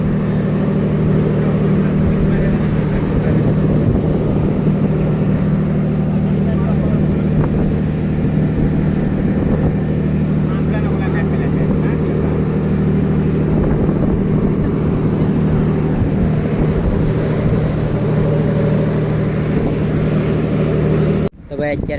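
A fishing boat's 280 engine running at sea near Dwarka, a loud steady droning rumble continuing unbroken for the whole stretch with wind over it, then cutting off abruptly at the end.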